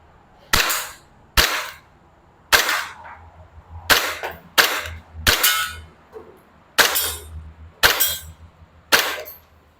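A WE Glock 35 Gen4 airsoft gas pistol fires at paper targets at fifteen metres, about ten sharp separate cracks at uneven intervals, each with a brief metallic ring, loud and close with no talk.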